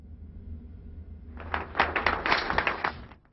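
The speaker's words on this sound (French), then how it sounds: "Des applaudissements nourris pour saluer la fin de 38 heures ininterrompues de négociations" A room of delegates breaks into sustained applause at the end of 38 hours of nonstop peace negotiations in April 1998. After a low murmur, the clapping swells suddenly and stays dense, then cuts off.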